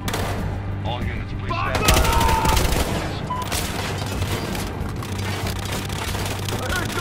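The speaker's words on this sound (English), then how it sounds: "I heard gunshots." Gunfire in the video game Battlefield Hardline crackles in dense bursts with booming shots, loudest around the two-second mark, over a steady low hum and game voices.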